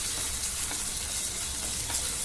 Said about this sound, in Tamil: வெங்காயம் எண்ணெய், சோம்பு, வெங்காயம் நல்லா வதங்கணும்